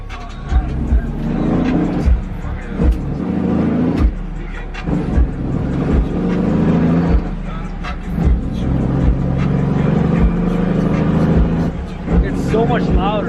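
Tuned car cruising downtown streets at night, a loud nearby engine revving and droning with repeated surges, with people talking over it throughout.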